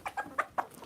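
An aggressive backyard hen gives a few short, quick clucks at close range, spaced unevenly across a quiet moment.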